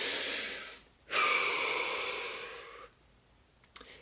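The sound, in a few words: deep breath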